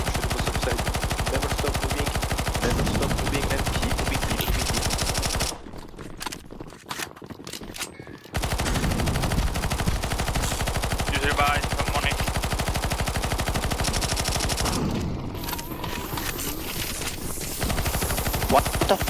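Sustained automatic gunfire aimed at a boss in the CS2 Zombie Escape map ze_sandstorm, loud and nearly continuous bursts with brief pauses, dense game sound layered throughout.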